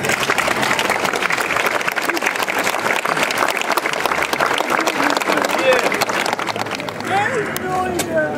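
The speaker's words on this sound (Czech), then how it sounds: "Zatleskejte mi, prosím." An audience applauds at the Vlčnov Ride of the Kings festival: loud, dense, sustained clapping from a crowd, with voices rising over the clapping as it thins near the end.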